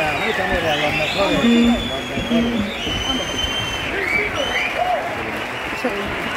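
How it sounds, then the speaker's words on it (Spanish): Crowd applauding a rock band at a live show in Madrid, a broad wash of clapping and cheering under an announcer's amplified voice, loud and sustained. "Un fuerte aplauso para ellos."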